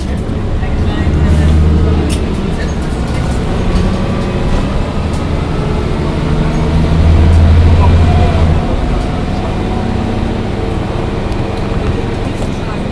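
A Mercedes-Benz O405 N1 city bus running, a loud, steady, close engine drone with a low rumble that swells slightly at a few points, heard alone without talk.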